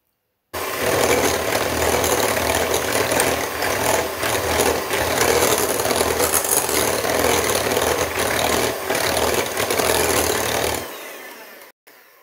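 An electric mixer creams lemon magic cake batter with a loud, continuous close whir and rattle that runs steadily for about ten seconds, then cuts off.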